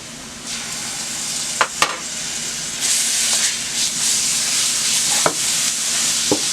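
Pork chops frying in a pan on a stove at medium heat with minced garlic added, a steady close sizzle and hiss with a few sharp clinks of a utensil against the pan.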